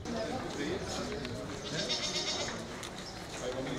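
Breeding rams and sheep bleat at a farm handout, several calls rising over a busy livestock background while people talk nearby.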